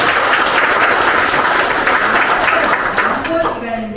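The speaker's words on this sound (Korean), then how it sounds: "총재님께 박수를 부탁드립니다" A crowd at an inauguration ceremony applauds with steady, sustained clapping that fades slightly toward the end.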